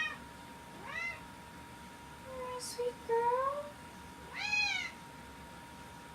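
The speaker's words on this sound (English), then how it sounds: "I gave my cat a bath tonight, and she's not happy with me." A cat that has just had a bath meows unhappily indoors, several separate drawn-out, rising-and-falling meows close by, while someone speaks softly between them.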